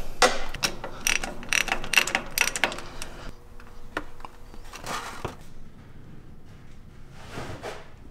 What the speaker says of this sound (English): I'd like to use a 1/2 inch drive ratchet with a step bit on it, and that'll make it easier to remove this bolt